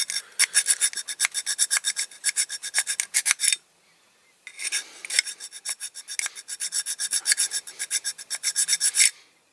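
Hand file rasping against the chassis of a Dinky Toys Big Bedford model, in two long runs of quick, even back-and-forth strokes separated by a short pause, close and fairly loud with no talking.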